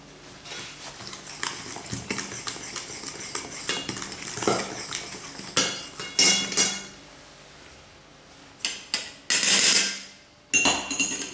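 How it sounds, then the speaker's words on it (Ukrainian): A metal utensil scrapes and clinks against a bowl in quick, irregular strokes, stirring batter with sour cream and baking soda, with a few sharper knocks near the end. "Розмішуємо тепер цю масу."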